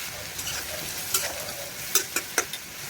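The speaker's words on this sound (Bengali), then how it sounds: "উল্টে ভালোভাবে ভেজে নামিয়ে নেব।" Shrimp frying in hot oil while being flipped, a steady close sizzle broken by several sharp scraping and tapping strokes of a utensil against the pan, no voices.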